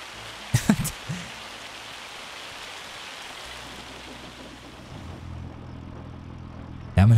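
In Farming Simulator 25, hail keeps up a soft, steady patter while a farm vehicle idles low underneath. A few sharp knocks come near the start and a louder thump comes at the end.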